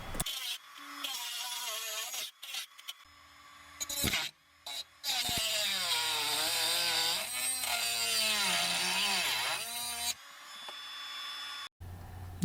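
A power tool cuts out a spinning panel fastener nut and bolt during cooling fan replacement on a GM 2.2L Ecotec Saturn Ion or Chevy Cobalt, whining loudly in bursts and stopping between passes, with no talk.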